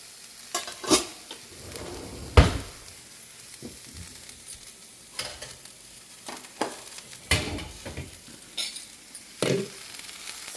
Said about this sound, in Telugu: శుభ్రంగా పైనుంచి కిందకి శుభ్రంగా కలిపేసుకొని మూత పెట్టేసుకోవాలి